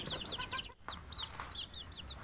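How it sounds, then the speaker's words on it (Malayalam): A Gramasree laying hen, offered for sale in Kannur, clucks in quick repeated bursts from close by, with a short pause partway through and no talk over it. "ഇപ്പോൾ ഈ വീഡിയോ കാണുന്നത് ഇത് ഗ്രാമസീനത്തിൽപ്പെട്ട കോഴിയാണ്. ഇതൊരു നല്ലൊരു മുട്ടക്കോഴിയാണ്."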